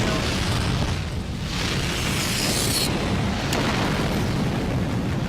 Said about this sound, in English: The power reactor's being destroyed.